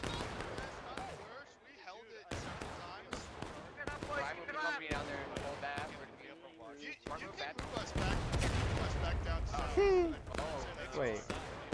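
Artillery booms and gunfire in the Civil War video game Ghosts of Antietam, repeated thumping blasts throughout with someone talking over them.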